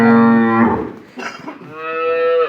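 Dairy cow mooing loudly and close, one long drawn-out low moo followed by a second rising call after a brief breath.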